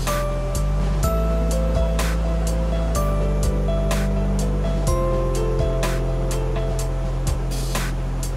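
Steady rushing water falls beside a frozen lake in winter in Germany, a continuous broad roar with intermittent louder splashes and surges, close and loud, with no talk.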